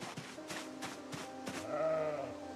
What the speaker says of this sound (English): Where are my sheep?